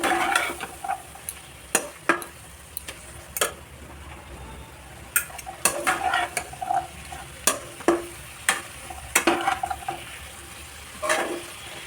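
Vegetable stems and potatoes frying in a pan while being stirred, a low steady sizzle under repeated sharp clacks and scrapes of a spoon against the pan, with the stirring quickening toward the end.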